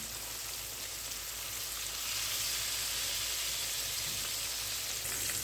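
Bonito fillets fry in a shallow layer of oil in a pan with a constant, close, crackling sizzle like fine rain that grows slightly louder partway through, and no one speaking.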